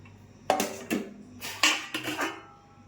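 Cooked rice is served onto a plate, giving a few soft scrapes and clinks of a serving spoon against the dish in short separate bursts, close and fairly quiet.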